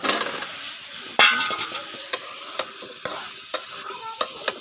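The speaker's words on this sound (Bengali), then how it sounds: "এই যে কেটে রাখা মূলা আলু দিয়ে দিতেছি।" Cut radish and potato go into a frying pan of hot oil for a puti fish curry, starting with a loud sizzling burst and followed by a fading hiss and periodic sharp clinks of a spatula against the pan.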